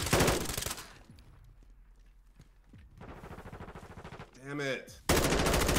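M4 rifle fire in Call of Duty: Modern Warfare II: loud, rapid automatic bursts open and close the moment, separated by a quieter stretch where a player briefly exclaims.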